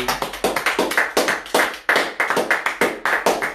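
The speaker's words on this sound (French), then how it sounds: "Est-ce qu'on peut applaudir pour Jésus?" A church congregation claps for Jesus in loud, steady, rhythmic unison, with a fast repeating beat heard close and alone.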